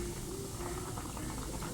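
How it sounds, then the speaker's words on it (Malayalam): Coconut-based sardine curry gravy boiling in a pot, a steady low bubbling and popping that continues evenly throughout with no talk. "ഗ്രേവി എല്ലാം നന്നായി തിളച്ച് വന്നിട്ടുണ്ട്."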